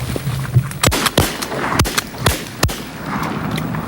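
Shotguns fire during a duck hunt, with six sharp, loud blasts at uneven intervals over a few seconds, each cracking out and dying off quickly against a low outdoor background.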